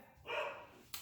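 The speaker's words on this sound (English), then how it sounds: "I'm so sorry about the barking, you guys." A single dog bark, one short, faint yap at a distance in an otherwise quiet room.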